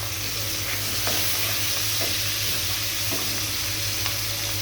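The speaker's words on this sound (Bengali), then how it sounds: "আমি এখন কয়েকটা কাঁচা মরিচ দিয়ে দিচ্ছি।" Prawns and onions fry in a pan as green chilies are broken in, giving a loud, steady sizzle with occasional scrapes and taps of stirring and no talking.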